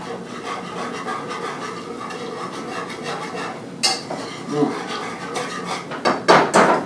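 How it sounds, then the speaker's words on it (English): A utensil scrapes and clatters against a pan while breaking up enchilada sauce, starting as soft stirring and rubbing and ending in several sharper, louder knocks and scrapes. "We'll kind of break this sauce up now."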